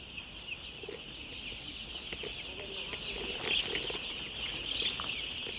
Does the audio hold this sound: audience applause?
no